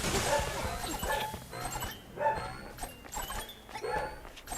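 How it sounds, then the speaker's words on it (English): A dog yips and whimpers in short bursts over a noisy background, with a few louder barks standing out. "That's my grandpa's dog, by the way."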